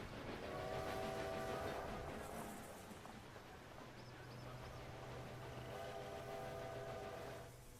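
A train in the video game Railway Empire 2 rumbles into a station with steady wheel clatter and engine drone, its horn sounding in two long tones, the second lower and sustained beneath the rolling noise.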